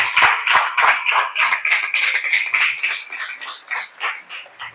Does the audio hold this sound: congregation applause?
yes